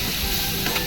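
Sweet corn upma mixture with onion, tomato, turmeric and salt sautés in a pan, a brief burst of loud steady sizzling.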